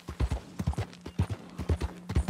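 Horse hooves clip-clop in a steady trotting rhythm in Red Dead Redemption 2, close and fairly loud, with a faint voice now and then.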